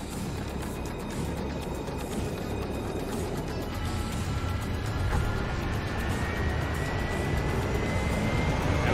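A helicopter in the Astral Chain video game flies overhead, a loud, continuous engine and rotor roar that holds steady and swells slightly toward the end, with no talking.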